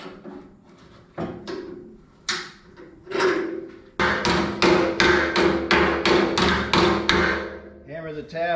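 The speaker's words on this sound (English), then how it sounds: "Hammer the tab over the old weld." Hammer blows fold a metal tab over an old weld during a Bricklin car frame restoration. A few spaced strikes come first, then a fast, even run of loud close metallic hits, and a voice comes in briefly at the end.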